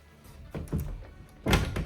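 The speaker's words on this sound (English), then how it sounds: "There's the nice pull doors here. French doors, closet doors." Closet or French pull doors in a house opening and closing, several soft wooden thunks and rattles with one louder knock near the end, close and without talk.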